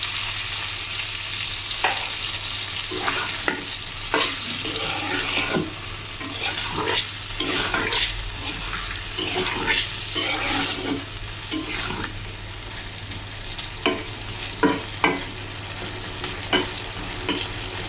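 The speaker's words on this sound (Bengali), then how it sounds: "এখানে কষানোর জন্য কিছু পানি দিয়ে দেবো যেন মশলাগুলো মাংসের ভেতরে যায়" Chicken and potato masala for bhuna khichuri sizzles in a pan while a spatula scrapes and stirs it in repeated, uneven strokes, close and steady, with no speech.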